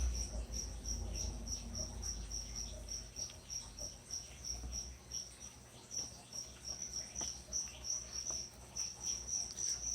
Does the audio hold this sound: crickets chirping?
yes